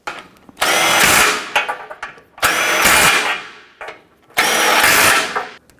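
A power tool tightening bumper bolts on a 2012-2017 Toyota Camry, three loud close bursts of whirring drive, each about a second long, with short pauses between them.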